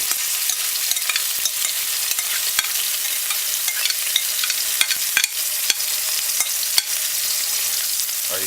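Diced onion sizzles steadily in hot oil while a utensil stirs and scrapes the pan, giving soft irregular clicks over a constant close frying hiss, no voices.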